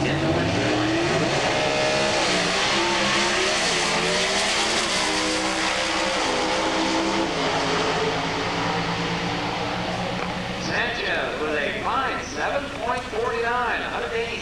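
Pro stock drag racing cars at the 1988 US Nationals, their engines roaring loudly and steadily as they stage before a sharper burst of revving and launching, with an announcer talking over the noise.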